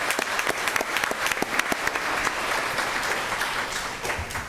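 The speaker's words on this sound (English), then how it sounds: "Please give Kenneth one more round of applause." Sustained audience applause for a student at a school board meeting, a dense wash of many hands clapping steadily at moderate volume throughout, with no talking over it.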